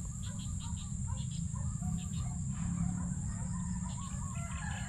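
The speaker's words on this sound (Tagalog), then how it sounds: "Ibang manok nagkakalat na rito." Chickens on a farm near a rice field, scattered clucks and brief calls repeating across the clip over a steady, loud low rumble of wind or ambient noise.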